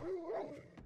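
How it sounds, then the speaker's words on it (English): A single dog's whine-like bark in the video game 7 Days to Die rises and wavers, close and fairly clear, followed by a couple of short soft noises. "That sounds like a dog."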